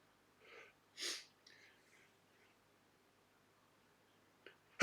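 A single brief sneeze bursts out near the one-second mark, short and sharp, with near silence before and after until a loud sound cuts in at the very end.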